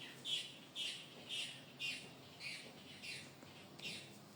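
Small free-flying birds calling from a jackfruit tree, a series of about eight short squawking chirps at a steady rhythm, fairly faint and distant, with no talking.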